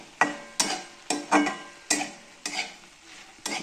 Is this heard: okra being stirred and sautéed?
yes